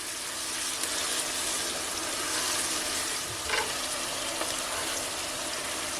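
Garlic, onion and pepper sauté in a pot for soup, giving a steady, close sizzle and hiss that holds evenly throughout, with a brief stir or clink in the middle.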